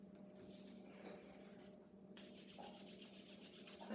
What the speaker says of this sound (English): I'm gonna rub my hands together.